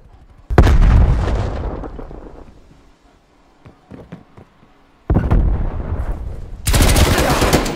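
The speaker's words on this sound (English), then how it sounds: "Throwing grenade." Grenade blast and heavy gunfire in the Call of Duty: Black Ops Cold War Standoff map: loud bursts of shooting, a quiet gap with scattered clicks, then another powerful explosion and sustained roaring fire to the end.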